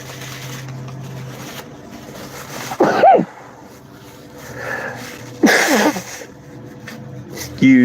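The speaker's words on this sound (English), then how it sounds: "I feel a sneeze coming on." A single human sneeze, sharp and close, after a short wheezy intake, with faint breathy sounds around it in a quiet room.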